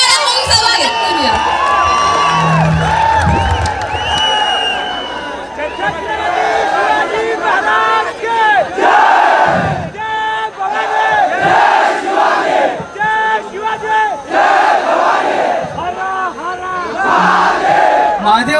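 A large college audience at a drama performance event roars with loud cheering, whoops and shouting, a dense crowd noise with voices and chants rising and falling throughout.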